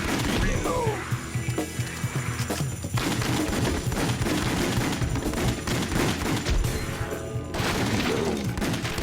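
Rapid gunfire from a House of the Dead Overkill arcade-style shooter, dense bursts of shots and crashes filling the whole stretch at steady loudness, with a voice faintly underneath.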